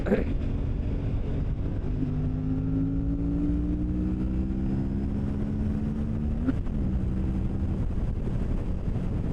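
An Aprilia RS 457 motorcycle climbs uphill, its engine note rising steadily in pitch as it pulls, then dropping abruptly with a gear change, all under constant wind rush close to the rider.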